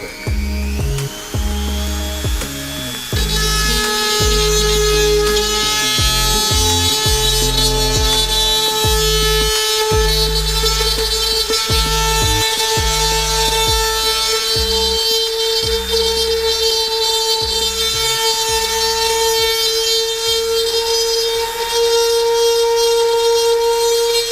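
A plastic welder melts plastic on a motorcycle airbox, putting out a loud, sustained high-pitched whine with a steady tone, broken by rhythmic lower rumbling pulses throughout.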